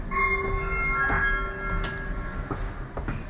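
A rumbling metro train passes through a disused London station with metallic squeals and whining tones from the wheels and rails, steady and fairly loud throughout.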